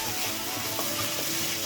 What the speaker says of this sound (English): I've been frying the onion, ginger, garlic, green chili